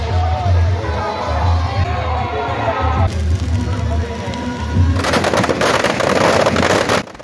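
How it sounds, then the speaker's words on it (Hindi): A large crowd roars and chants Jai Shri Ram at a Dussehra celebration with effigy burning and fireworks, a dense sustained outdoor din that swells louder and brighter partway through. "पूरा परिसर जय श्री राम के जयकारों से गूंज उठा"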